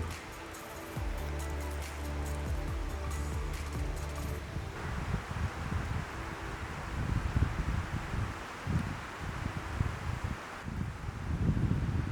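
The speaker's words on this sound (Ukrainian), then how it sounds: "Вітер доволі уривчастий." Broadband rushing wind on a mountain comes in uneven gusts, swelling and dropping as it buffets the microphone, with occasional rustling.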